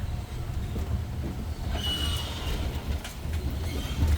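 A tram on a botanical garden tour rolls along the tracks with a low steady rumble, joined midway by a thin metallic squeal from the wheels.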